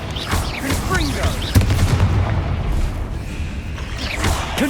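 Confringo spell blasts in the Hogwarts Legacy video game go off in quick succession as bursts and booms amid combat effects, fairly loud and close, with voices calling out over the fight.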